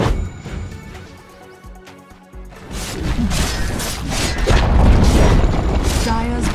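A Dota tower collapses with a loud rumbling crash amid game effects, the noise swelling and staying heavy through the second half while battle sounds continue around it.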